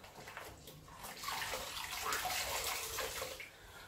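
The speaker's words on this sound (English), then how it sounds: "I'm just wetting this sponge for the flat mop. And I'm squeezing it out quite well as well." Water runs and splashes close by as a flat mop sponge is soaked in a bucket of clean water and then squeezed out, a steady watery rush with small drips and squishes and no talking.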